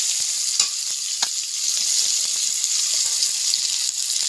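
Chopped onions and whole cumin seeds sizzle in a pan for a katla fish kalia, a steady bright frying hiss broken by occasional scraping clicks of stirring, close up with no talking.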